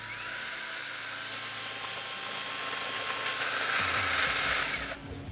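An InoKraft BB Shark 12v mini chainsaw runs at a steady high-pitched electric whine for about five seconds, its tone dropping slightly before it cuts off, heard alone and close.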